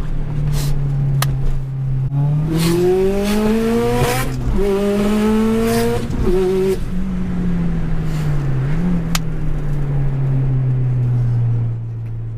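A 500-horsepower Subaru Impreza STI with an external wastegate revs loudly and close, its engine note climbing through repeated pulls and gear changes with sharp wastegate chatter, then settling into a steady drone while cruising.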